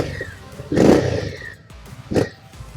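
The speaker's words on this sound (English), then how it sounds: "this is the exhaust note of the Scout." An Indian Scout motorcycle exhaust with a low, grunty, thumpy note, rising in two throttle blips over a steady idle, close and fairly loud.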